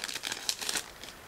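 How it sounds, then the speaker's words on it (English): Plastic bag holding clear sprues from a 1/35 scale Model T 1914 firetruck kit being opened, a quick run of close, soft crinkling and rustling bursts lasting about a second. "I would like to start with this plastic bag for the clear sprues, so I'm going to open it right now."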